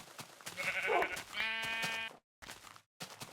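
Sheep bleat twice in quick succession in Minecraft, a wavering call followed by a steadier, buzzy one, then a few short soft clicks and thumps.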